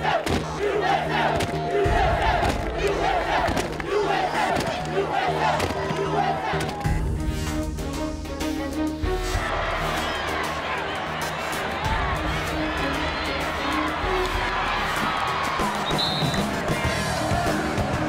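University student section at a college basketball game cheering and chanting loudly, a dense roaring crowd with rhythmic shouted chants and bursts of noise, with voices talking over it.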